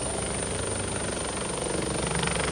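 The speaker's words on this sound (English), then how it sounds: "It's like not every day that a helicopter lands like 50 meters from you." A helicopter roars close by as it lands about 50 meters away, its rotor thumping in a steady, loud, unbroken wash of engine noise.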